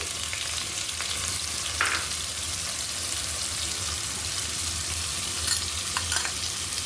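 Onions fry in hot oil in a pan, a steady, close hiss of sizzling that never lets up, broken by a few brief crackles and spits.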